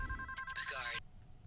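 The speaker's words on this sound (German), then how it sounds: "Ah, wir hätten das Telefon beantworten müssen." A telephone rings inside the video game PayDay 2, a clear electronic trill lasting about a second and then cutting off, under and among the gamers' chatter.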